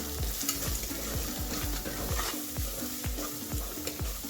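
Red chili powder stirred into a pan of pav bhaji, a spoon scraping in a steady repeated rhythm over a continuous close sizzle, with no talking.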